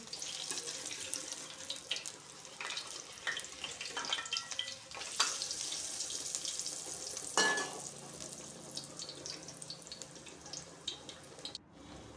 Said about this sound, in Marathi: आता आपण संपूर्ण ब्रेड अशाच प्रकारे तळून घेऊया